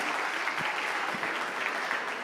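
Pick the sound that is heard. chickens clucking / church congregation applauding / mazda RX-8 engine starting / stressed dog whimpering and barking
church congregation applauding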